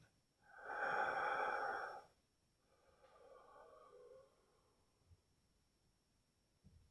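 A voice imitates heavy breathing: one long, loud raspy exhale, then a softer, quieter breath, followed by near silence.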